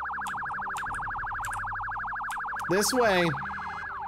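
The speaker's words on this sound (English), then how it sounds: "Can we put on the sirens?" Wailing electronic vehicle siren from the zombie survival game Project Zomboid, a steady rapid warble sounding continuously and fairly loud, with someone briefly speaking over it near the end.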